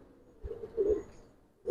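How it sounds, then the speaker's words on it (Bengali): A male Giribaz pigeon, over four years old, makes a soft low coo that swells and fades, accompanied by a couple of dull thumps and a sharp sound at the end. "এটা একটা নর কবুতর আমার।"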